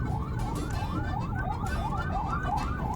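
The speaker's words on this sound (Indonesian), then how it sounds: "Nah tuh lihat ada mobil ambulan." Ambulance siren wailing steadily in a rising and falling cycle across a traffic jam on a road toward Bandung, loud and continuous over a background rumble of traffic.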